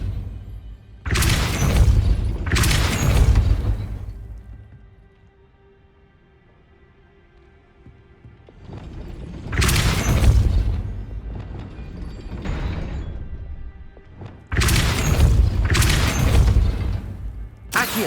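Depulso spell blasts in the Hogwarts Legacy video game land as loud, heavy booms in pairs, three clusters of double impacts separated by quieter rumbling stretches.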